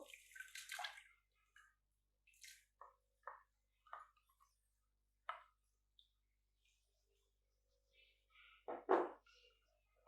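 Soaked, hand-crushed rice for kheer is tipped into a cooking pot, giving a few wet, splashing thuds and short gurgles spread across the quiet, ending in one louder splash near the close.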